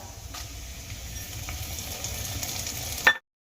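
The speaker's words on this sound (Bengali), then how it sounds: "এবার তেলের মধ্যে দিয়ে দেবো ফোড়ন দিয়ে দেবো তিনটে শুকনো লঙ্কা আর দিয়ে দেবো দু টুকরো তেজপাতা" Three dried red chillies and two bay leaves hit hot oil and fry with a steady crackling sizzle close up, ending in a brief louder spit before cutting off.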